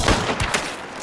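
A Mosin rifle fires in the video game Hunt, a brief close crack followed by a few quick echoing reports that die away within a second, with no talking.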